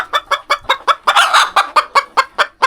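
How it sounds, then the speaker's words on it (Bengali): Free-range native chickens, some crested, clucking in a quick run of about a dozen close, loud, evenly spaced calls, with one longer squawking burst in the middle. "আমার মোট মুরগি মোরগ সহকারে মোট চল্লিশ পিস"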